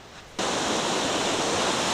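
Sea shore ambience on the Baltic coast at Ostrowo near Jastrzębia Góra, Poland: after a quiet opening the surf noise starts abruptly and holds as a dense, steady wash with no voices.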